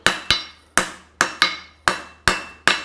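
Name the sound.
hammer forging a horseshoe heel cork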